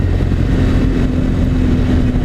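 A sport bike's inline-four engine runs loud and close with a steady, droning roar and no audible voices.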